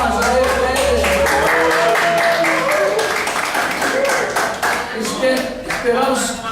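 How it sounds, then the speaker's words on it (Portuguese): A class audience claps at the end of a lecture session. The clapping is a brisk, uneven patter of several hands with voices talking over it, and it thins out toward the end. "Palmas aí."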